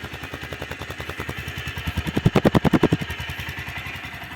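A Mustang MT 200-7 motorcycle engine runs with a rapid, regular thumping pulse, briefly revving louder in the middle before settling back to idle.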